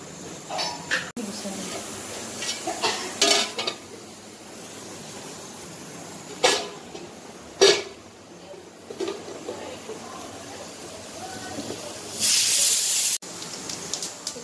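Mustard seeds in hot oil hiss and spit in a kadai, then bottle gourd goes in, with bursts of sizzle and scattered pops, a longer hiss near the end, and talking heard throughout.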